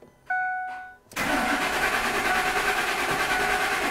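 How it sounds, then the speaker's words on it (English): A Ford F150 5.4 engine, with new timing chain, cam phasers and oil pump, cranks over steadily with the pedal held down to prime oil, a loud continuous starter churn after a brief whirring tone, with no talk. "So pedal to the floor and then we'll just crank it."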